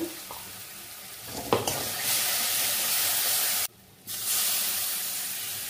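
Ground spice paste hits hot oil in a pan with a loud, steady sizzle, a few stirring clinks at the start and a brief drop in the hiss partway through.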